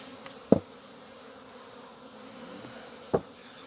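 A faint, steady hum of bees flying around their hives on a mild December day, with two brief soft taps breaking the quiet.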